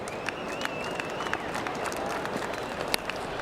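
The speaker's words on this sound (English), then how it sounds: "Now they're applauding the Pakistani achievement as well." A large stadium crowd applauds during an Australia versus Pakistan one-day cricket final, a steady wash of distant clapping and crowd noise with scattered sharper claps and a faint whistle.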